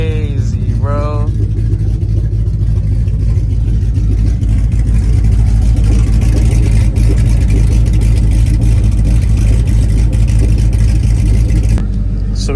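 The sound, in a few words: car engine revving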